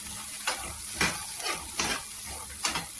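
A steady fry sizzles in a pan while a spoon stirs through it in four or five distinct scraping strokes at roughly half-second intervals, close and moderately loud with no talking.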